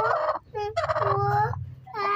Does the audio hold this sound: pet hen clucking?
yes